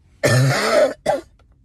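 A single harsh cough or throat clearing, close and loud, followed by a shorter second burst after a brief pause.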